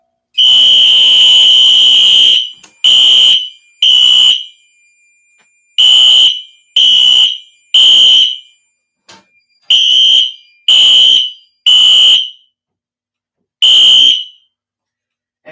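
Fire alarm system horns blare loudly in a test, a long opening blast followed by a series of sharp, evenly spaced horn bursts with brief silences between them, alone without talk.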